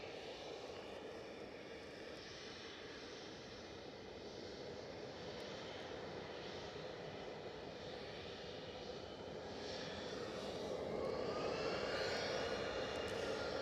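Low, steady jet roar from an EasyJet airliner on its takeoff run at Edinburgh airport, a broad rumble heard from a distance that builds and grows louder toward the end.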